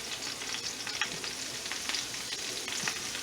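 Cheddar cheese frying in butter in a pan over medium-low heat gives a steady, close sizzle with faint crackles throughout and no talking.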